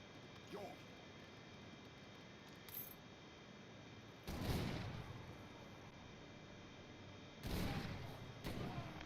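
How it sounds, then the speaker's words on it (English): Swedish musket troops firing in Age of Empires III, heard as two broad, booming volleys several seconds apart over a steady game background hum, with faint game voice callouts between them. "It definitely sounds like a gunshot."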